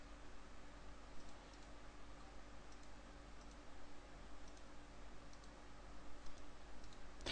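Quiet, steady computer mouse clicks tap along at an irregular pace over a low electrical hum and faint background hiss, close and soft.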